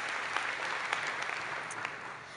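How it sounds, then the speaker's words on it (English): A conference audience claps for itself at an annual plenary session, with a steady, even wash of many hands applauding that stays moderately loud for the whole stretch. "Clap for yourselves"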